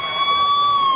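An emergency siren sounds during an earthquake mock drill at a mini-secretariat complex, a loud, steady, unwavering tone held through the whole moment with no voices.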